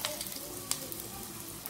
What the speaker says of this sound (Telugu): దీన్ని ఆయిల్లో డీప్ ఫ్రై చేసుకోవాలి